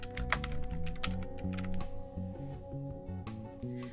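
Quiet, close typing on a computer keyboard, a quick irregular run of light key clicks and taps with no speech.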